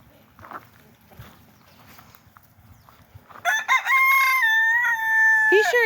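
A rooster in a yard crows loudly and up close, a long sustained cock-a-doodle-doo rising after several seconds of quiet background with faint rustling.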